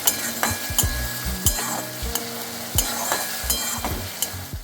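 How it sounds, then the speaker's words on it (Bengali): Crushed garlic frying loudly in a hot pan, a steady sizzle broken by repeated scraping stirs of a spoon against the metal, close up with no voices. "আর দিলাম কোচানো রসুন। এবার একসাথে ভেজে নিচ্ছি।"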